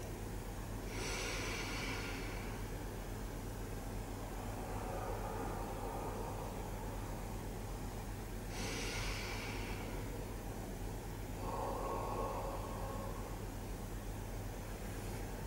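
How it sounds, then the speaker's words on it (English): Slow diaphragmatic breathing heard close and soft, two long airy inhales spaced several seconds apart with gentler exhales between, over a steady low hum; no speech. "Inhale slowly and feel the ribs moving out to the side and the back, and the belly in front expanding a little"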